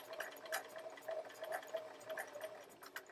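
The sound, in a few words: sewing machine stitching forwards and backwards on quilt fabric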